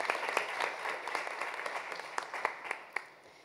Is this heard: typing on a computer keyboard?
no